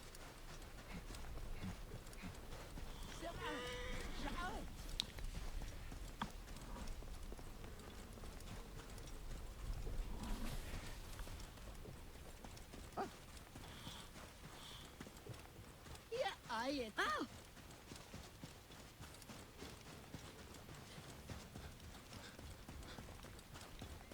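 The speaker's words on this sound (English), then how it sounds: "Hey, a donkey." Hooves clip-clop in Assassin's Creed Origins as a donkey passes nearby, with rhythmic bursts of footfalls over game ambience and someone talking throughout.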